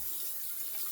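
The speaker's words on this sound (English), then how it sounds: "I'm gonna rinse off" Water from a tap runs steadily into a sink while a razor and face are being rinsed after a shave, a close, constant splashing hiss.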